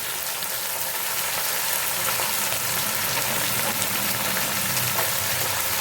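Turmeric and curry leaves fry in hot oil in a pan for a dry fish and tomato curry, giving a loud, steady, crackling sizzle throughout with no voices.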